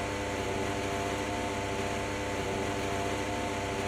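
A Formula 1 car engine roars loudly during video game qualifying, a steady dense mechanical drone with a sustained high whine that holds without a break, and nobody speaks.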